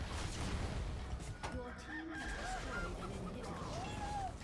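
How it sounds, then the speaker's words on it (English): A chicken clucks and crows in the video game League of Legends, faint squawks and a rising crow call sitting over a steady bed of game noise. "That chicken noise."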